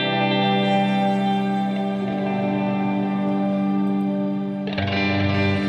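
An electric guitar played through an HX Stomp modeler, with path A panned left, rings out in sustained effected chords that carry heavy reverb, chorus and echo. The tone shifts brighter near the end, and no one talks.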